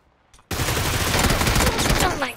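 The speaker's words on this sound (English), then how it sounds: "They got the big light machine gun." A burst of machine gun fire from an MG3 light machine gun in the video game PUBG, breaking out suddenly after a near-silent moment and rattling on loud and unbroken for about two seconds before tailing off slightly.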